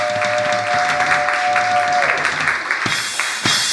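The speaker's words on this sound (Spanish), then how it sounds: "Dale un aplauso al Señor." A church congregation applauds during a sermon, a steady loud patter of clapping with a held organ-like tone early on and a few thumps near the end.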